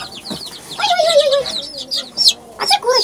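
Young chickens and hens out in a farmyard give soft clucks and chirping calls in short overlapping bursts, close by, with faint rustling between them.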